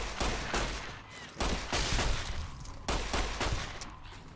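Gunfire in the video game Fallout New Vegas, several bursts of rapid shots in a steady rhythm separated by short pauses, loud and dense, with no talk over it.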